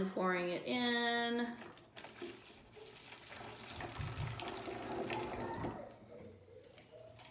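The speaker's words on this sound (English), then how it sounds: "measuring a cup of water and then pouring it in" A cup of water is poured into a jug, with a close splashing stream whose tone rises as the vessel fills, followed by softer trickling and sloshing.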